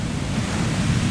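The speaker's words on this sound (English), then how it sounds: "every time these waves come up, they're super frothy" Frothy ocean waves wash foam up a beach on the Washington State coast in a continuous loud, broadband rush with no voices.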